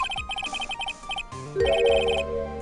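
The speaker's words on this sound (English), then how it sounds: "There's a phone call for you, sir." Telephone ringing in the Phoenix Wright: Justice for All courtroom video game: a chiptune-style electronic ring in rapid repeated bursts, followed by a brighter, louder musical jingle carrying the tune.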